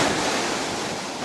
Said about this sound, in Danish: Nu står jeg på en strand med store bølger